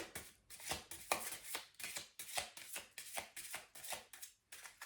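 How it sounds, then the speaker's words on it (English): Tarot cards are shuffled in quick, repeated riffling bursts, close and soft, with brief pauses between each flurry. "One more shuffle."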